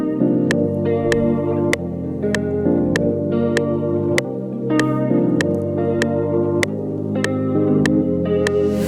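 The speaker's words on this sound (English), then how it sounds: "it's going to sound like this with the flute" Jazz guitar and flute chords programmed in FL Studio for an Afrobeats guitar beat, playing a steady rhythmic chord pattern with plucked attacks and echo-like effects, loud and without talk.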